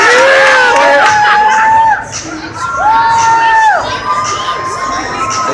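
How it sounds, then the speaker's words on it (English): Parents in the stands at a junior youth basketball game yell and cheer loudly, with excited shouts and whoops rising over a busy indoor crowd throughout. "That's all the parents up here yelling."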